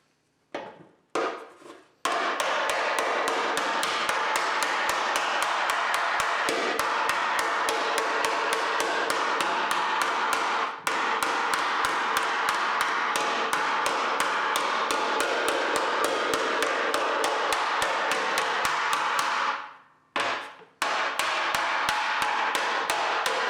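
A metal hammer taps rapidly and evenly on an aluminum track nose panel, smoothing its surface in a long, steady stream of close, bright strikes, with a few short pauses near the start and near the end.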